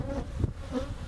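Honey bees buzz steadily at an open hive frame holding pollen, bee bread and brood, a close, continuous droning hum with no speech.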